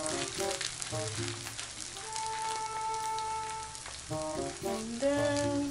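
Mashed potato fries in oil with a close, crackling sizzle, spattering bursts rising and falling over a steady tonal hum in the background.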